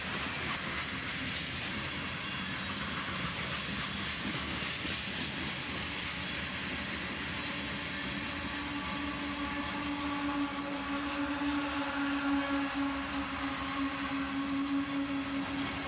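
A loaded CSX ore train rolls past, its tail end going by with a steady rumble and clatter of wheels and a sustained squeal that rises near the end.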